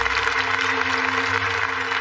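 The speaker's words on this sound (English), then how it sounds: "the rest of the guys should have another round of applause" Studio audience applause for a gardening television team, a loud continuous wash of clapping with a steady tonal hum beneath it, brief and unbroken.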